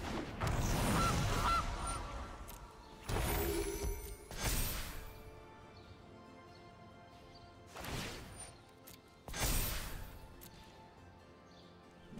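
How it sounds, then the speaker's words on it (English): Repeated goose honks from the MTG Arena card game, loud bursts spaced several seconds apart over faint background game music. "And a goose."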